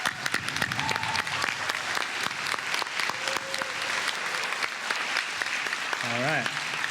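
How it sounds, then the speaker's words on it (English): Audience applause fills a graduation ceremony hall for the graduating class, steady dense clapping for about seven seconds with a brief voice or whistle near the end. "Can we please give them a round of applause?"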